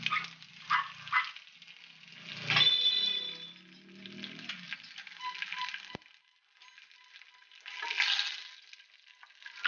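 Curry leaves drop into hot sesame oil with already-spluttered mustard seeds for a raw tamarind pickle. They crackle and sizzle in a sharp burst that settles into a quieter fry, with a second surge later and no talk.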